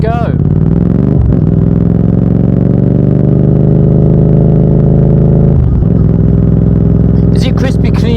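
A Yamaha MT-07 motorcycle engine revs loud and close, holding a steady high drone for several seconds, dipping briefly as it shifts, then pulling again as it accelerates.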